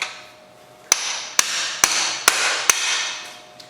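Hammer striking a punch to tap out a part during a Yamaha YZ125 two-stroke teardown, five sharp metallic hits about half a second apart with ringing decay, then a faint final tap.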